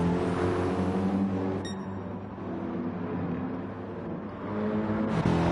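A 2016 BMW M6 Endurance race car engine during Nurburgring qualifying, a steady loud drone holding and then rising with revs, with a brief gear-change blip and a pass of another car near the end.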